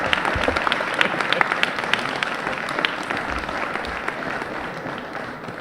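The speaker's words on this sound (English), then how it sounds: "You deserve a round of applause." Steady applause from a crowd at an athletic awards banquet fills the space, with many hands clapping at once and some voices mixed in beneath.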